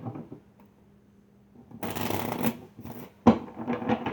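A deck of tarot cards being shuffled close up, a soft riffle followed by a louder burst of crisp flapping and riffling, ending in a few quick snaps of cards.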